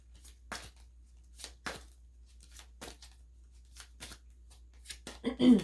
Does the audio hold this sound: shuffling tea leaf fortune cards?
yes